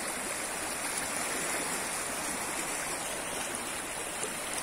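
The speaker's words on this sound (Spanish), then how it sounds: "Este es el río Cañaveralejo." The Cañaveralejo river flows steadily near a reservoir, a continuous broadband rushing and gurgling of water that stays even and moderately loud throughout, with no voices.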